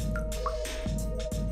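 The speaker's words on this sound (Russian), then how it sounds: "На пакете собирается конденсат, который стекает в стакан." Condensation drips and small trickles fall from a plastic bag into a glass over a steady low hum, with a few soft splashy plops close by.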